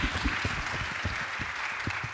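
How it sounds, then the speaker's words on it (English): Audience applause at a festival event in a chapel venue, a short burst of many hands clapping in a steady patter, moderately loud and heard on its own. "Another round of applause."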